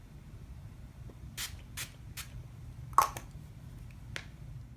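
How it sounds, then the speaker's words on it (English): Short hissing bursts of Wet n Wild Photo Focus setting spray misted onto a face, several quick pumps spaced about half a second apart over a low steady background, close and fairly soft. "I'm going to set my face with my Wet n Wild Photo Focus setting spray."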